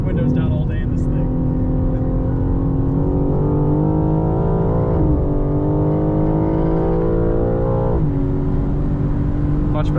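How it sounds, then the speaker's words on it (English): Engine of a 2023 BMW M4 Competition lapping the track at Buttonwillow with the windows up, a steady muffled drone with harmonic pitch rising and dipping through gear changes, loud and continuous inside the cabin. "Natural engine noise."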